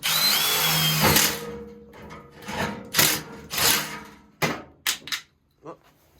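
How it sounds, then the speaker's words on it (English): Power drill boring a pilot hole, with short bursts of whining drilling that start and stop several times at close range, separated by brief pauses. "Steven's got the drill set up. We are going to drill"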